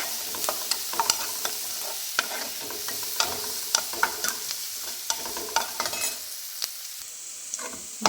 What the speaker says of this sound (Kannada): ಎಣ್ಣೆಯಲ್ಲಿ ಈರುಳ್ಳಿ ಬೆಳ್ಳುಳ್ಳಿ ಬೆಂದಷ್ಟು ಇದು ಚೆನ್ನಾಗಿರುತ್ತೆ